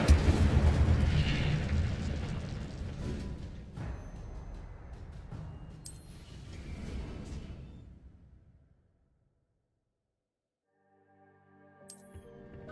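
Incendio fire spells cast in Hogwarts Legacy burst out as loud, booming whooshes in quick succession, dying away into near silence before one more brief flare near the end.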